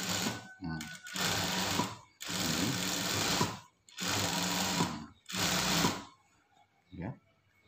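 An industrial sewing machine stitching a rever collar, running in four or five steady bursts of rapid mechanical whirring separated by short pauses, with a brief clunk at the end.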